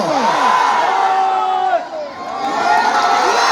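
A crowd at a Bhojpuri stage show cheers and shouts loudly, a dense wash of whoops and yells that dips briefly midway and then swells again.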